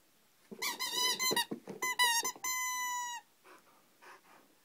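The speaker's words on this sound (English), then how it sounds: "Get your squeaky." A dog's squeaky toy squeaks in a quick series of sharp, high squeals, ending in one long sustained squeak, then fainter squeaks trail off; close and loud, with no talking.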